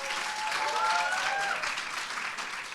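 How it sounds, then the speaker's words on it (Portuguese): A church congregation applauding during a worship service, a steady wash of clapping close and moderately loud that runs through the whole moment, with no voice over it. "Será que a gente pode aplaudir o nome de Jesus aí?"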